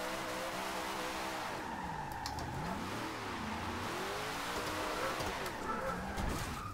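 A Dodge Dart drifting in Forza Horizon 2 holds a continuous engine roar whose pitch swoops up and down with throttle changes and shifts, steady and unbroken for several seconds.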